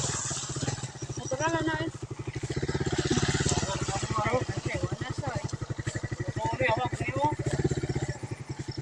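A motorcycle engine runs steadily with a low, pulsing rhythm close by, while several people talk and laugh over it.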